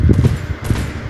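A single SKS rifle shot in a first-person shooter match, landing as a loud, sharp report near the start of the clip and followed by a short burst of fainter impacts.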